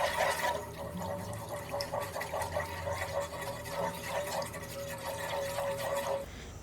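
Milk poured into a pan for a white sauce while making Alfredo pasta, a steady liquid splashing and trickling for about six seconds, close and fairly loud, then cutting off.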